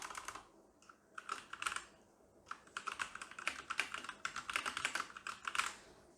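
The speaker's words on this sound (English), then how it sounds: "I'm not used to typing on mechanical keyboard, but first impression I would say is that it feels very good." Typing on a Sharkoon SKILLER SGK30 mechanical keyboard with Khali Red switches, clusters of crisp clacking keystrokes in uneven bursts, close and fairly quiet with no talk.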